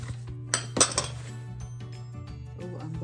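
Antique saucers and bowls clink and knock together as they are handled, with a few sharp close chinks and softer ceramic taps at a quiet level.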